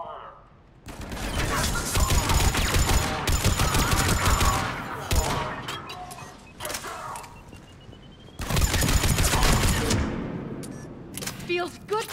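Gunfire in the video game Mass Effect 3: dense bursts of rapid automatic shots in two long loud volleys, with shorter scattered shots and combat effects in the gaps between them.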